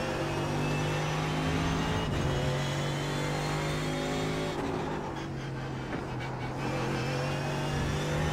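GT3 race car in the sim racing game iRacing at Monza, a steady loud engine drone with sustained harmonic tones that dip briefly around gear changes and then rise again, continuous with no talk.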